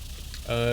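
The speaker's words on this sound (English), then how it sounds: "but I have upgraded it with the aircraft engine." Aircraft engine running in the Stormworks build-and-rescue game, a steady harmonic drone that swells in and holds loud after a short stretch of quieter noise.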